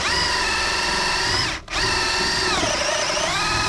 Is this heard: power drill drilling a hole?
yes